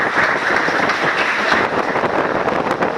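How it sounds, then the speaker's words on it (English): Youth seminar audience clapping for themselves in a hall, a steady dense wash of applause filling the whole stretch, loud and continuous with no voices standing out. "Clap for yourselves"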